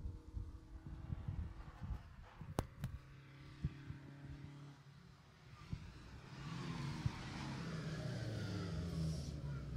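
A rally car at the Jersey Rally, the last in the field, approaches and accelerates past, its engine growing from a faint distant hum to a louder rising roar near the end.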